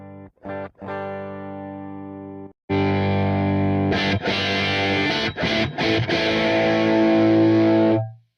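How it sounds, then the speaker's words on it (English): An electric guitar plays through a Marshall Plexi amp emulation. Sustained chords ring out with an overdriven tone. After a cleaner opening phrase, heavier distorted strumming follows, loud and up close. "let me show you what the guitar sounds like with and without the Marshall Plexi in the Unison slot"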